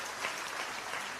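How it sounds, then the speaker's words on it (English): An audience at a Diamond Jubilee inauguration ceremony claps in a dense, even patter of applause, faint and steady from start to finish. "That's why I wanted you to make the applause."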